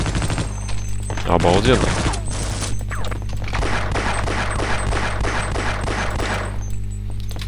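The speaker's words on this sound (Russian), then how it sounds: "Пулемет! Нифига себе, какая штука." Rapid bursts of machine gun fire in the sci-fi shooter Half-Life: Opposing Force, loud repeated shots in a steady rhythm over low game ambience, with someone briefly speaking over it.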